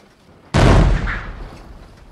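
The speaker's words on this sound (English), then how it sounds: "see how far you can shoot this cannon into the water?" A toy pirate ship cannon fires a single sudden loud blast that booms and then slowly fades out, with no voices alongside it.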